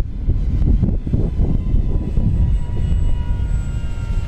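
An FMS F7F Tigercat radio-controlled model airplane flies past slowly with full flaps on a windy day, its electric motor giving a steady, moderately loud drone that holds for several seconds with no talk.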